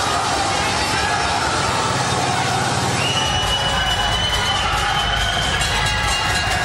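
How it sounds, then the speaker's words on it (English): A boxing crowd in Manchester roars and cheers behind the fighter Rick, a dense, continuous wall of arena noise with whistles and shouts rising partway through. "we can hear the crowd absolutely getting behind Rick"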